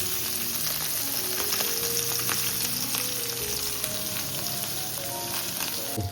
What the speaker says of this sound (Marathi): मस्त याची करपून तेलामध्ये सोडल्यात. इकडे बघा मस्त काही आवाज येतं, किरकिर किरकिर